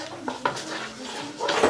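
Chicken goulash being mixed with olive oil in a pan, with a few close metallic clinks and scrapes of a utensil against the pan and a voice speaking faintly in the background.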